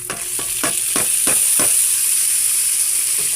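Shrimp paste (alamang) sautéing in a hot pan for a bitter gourd (ampalaya) dish: five or six quick spatula scrapes and clacks, then a steady, loud, close sizzle hissing on alone.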